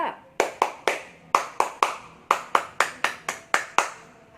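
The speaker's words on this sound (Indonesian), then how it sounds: "tepuk pramuka" A scout clapping pattern performed at a Christian Baptist kindergarten and school assembly in Surabaya: crisp, close hand claps in rhythmic groups of three and four with brief pauses, sharp and evenly paced, with no voices over them.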